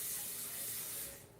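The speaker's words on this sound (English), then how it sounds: "Let me just like rinse it out a little bit." Tap water running in a steady, close hiss as a kitchen appliance is rinsed out, fading slightly toward the end.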